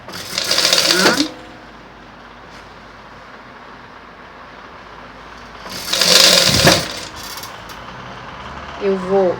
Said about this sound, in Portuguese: Olha, costura para não repuxar